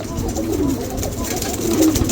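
A male diesel-coloured king pigeon coos in low, throaty, continuous rolls among other birds, with a faint voice in the background.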